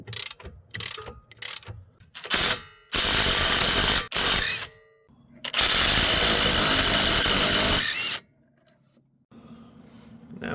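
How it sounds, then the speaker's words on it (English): A power tool spins off the 22 mm strut-to-knuckle bolts on a Toyota Camry front suspension, loud close bursts of rapid ratcheting and whirring separated by short pauses and clinks. "Now it's time to remove these two big bolts that are holding the strut assembly to the steering knuckle."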